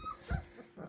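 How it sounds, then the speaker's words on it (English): Three-week-old Labrador puppies give a single short whimper at close range, a brief soft cry that fades quickly into quiet rustling. "3-week-old Lucy Chester puppies"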